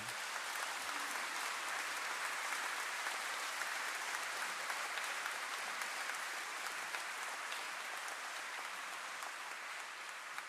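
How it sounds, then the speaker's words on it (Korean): Sustained applause from a large congregation at an installation Mass for the new archbishop of Seoul, a steady, even wash of clapping that lasts the whole stretch, fairly distant and soft, with no talking. "모두 박수로 축하해 주시기 바랍니다"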